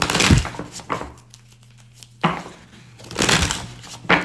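Quick papery riffling bursts of tarot cards being shuffled, a few separate rounds with brief pauses, close and fairly quiet.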